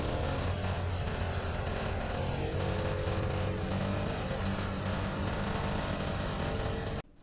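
A Honda CT110 postie bike being ridden gives a steady, loud engine drone with road rumble that holds evenly for about seven seconds, then cuts off abruptly.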